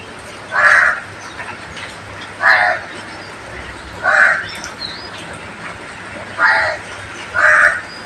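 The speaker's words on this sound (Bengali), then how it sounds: "কাক উপর থেকে ডাকছে বেশি আসতে পারছে না" A crow caws five times at irregular intervals, each call harsh and fairly loud, over a steady outdoor background hiss.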